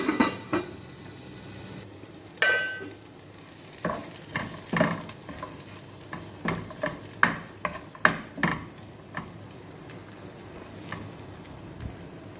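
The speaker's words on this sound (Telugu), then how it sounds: "మధ్య మధ్యలో కలబెడుతూ ఉండాలి." Carrot and tomato frying in a pan for poha upma, stirred now and then: a steady soft sizzle broken by scattered scraping and clanking of the spoon against the pan, with a few louder knocks near the middle.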